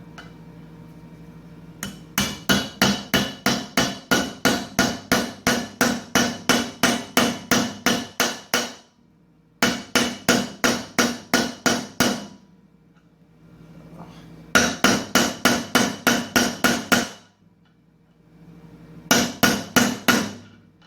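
Hammer blows drive a swing arm bearing into a YZ85 dirt bike swing arm through a socket, loud metallic strikes in four fast regular bursts separated by short pauses, no talk.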